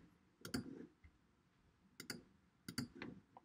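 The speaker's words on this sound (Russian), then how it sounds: "Просто нажимаем Enter." A computer keyboard's Enter key is pressed in three crisp, close clicks spaced about a second apart, faint and alone in a quiet room.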